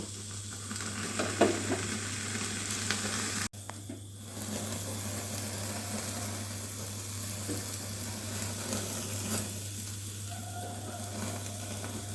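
Chicken malai kabab skewers roast over a medium-to-high gas flame while being turned by hand, giving a soft, continuous sizzle and hiss with a brief clatter partway through, faint and steady.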